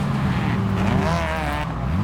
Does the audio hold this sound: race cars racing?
yes